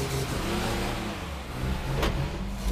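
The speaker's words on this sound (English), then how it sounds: "get a rev on it" A classic Mercedes-Benz 230S from the late 1960s, its battery low, idles close by and revs with a steady mid-range engine roar that swells and eases, with no talking.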